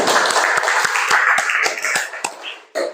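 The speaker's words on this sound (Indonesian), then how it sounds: "tepuk tangan buat semuanya" Students in a classroom give a short burst of applause, a sparse set of distinct claps tapping out a loose rhythm and thinning toward the end.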